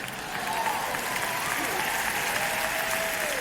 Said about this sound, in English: You don't have to hold the applause inside, Ted.